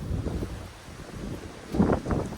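Strong gusting wind buffets trekking-pole tents pitched outdoors, a Durston X-Mid Pro 2 among them, with low rumbling roar and flapping surges that swell louder toward the end.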